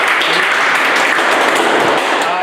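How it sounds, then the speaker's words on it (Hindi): Applause for a student in a Hindi-language coaching class, a dense steady patter of clapping from a room of students lasting a few seconds without a break. "ताली बजाई बच्चे के लिए।"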